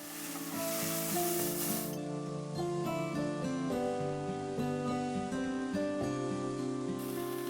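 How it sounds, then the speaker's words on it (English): Onions sauté in a pan over medium heat for Hong Kong style curry, a steady soft sizzle running throughout beneath prominent background music. "Pan back on medium heat. Onions. Saute for 3 to 4 minutes."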